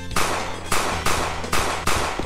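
Four sharp gunshots ring out at a steady pace in a Mario video game where the player carries a gun, each a loud broadband crack with a short ringing tail over a low game hum.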